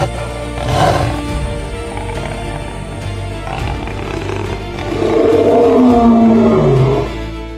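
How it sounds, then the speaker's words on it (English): A lion roaring on the Mara plains of Kenya's savannah, a deep resonant roar that swells twice in long rumbling calls, loud and close over a steady low background rumble. "a deep, resonant roar shattered the quiet."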